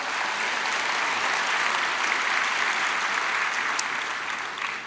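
A church congregation applauds steadily, a dense, even wash of many hands clapping at moderate loudness with no talk over it.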